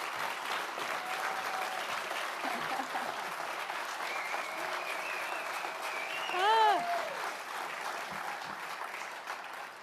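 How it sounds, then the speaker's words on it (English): Steady, moderately distant applause from a congregation at a spiritual center, sustained clapping throughout with a brief whistle-like tone rising near the middle. "let's give him another rousing round of applause"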